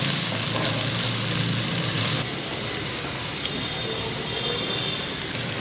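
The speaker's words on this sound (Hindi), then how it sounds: "मीडियम फ्लेम पे फ्राई करें। चलते चम्मच हिलाते रहेंगे, प्याज के ऊपर कलर एक जैसा है।" Onions frying in a pan on a medium flame give a steady, close hiss and sizzle with faint crackles, louder for the first two seconds and then settling to a softer, even sizzle.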